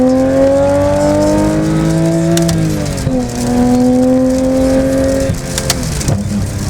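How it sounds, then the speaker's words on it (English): A 992.1 Porsche 911 GT3 engine revving in first gear, loud and close with a sustained howl whose pitch climbs, dips and swells again over several seconds, with no voices. "We cannot drive the GT3 without letting you guys hear it. All right, first gear right there."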